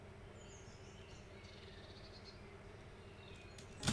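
A birds-chirping texture sample layered into a beat: faint high chirps and insect-like trills over a low, steady bed of sound, quiet and distant, ending in a brief louder burst.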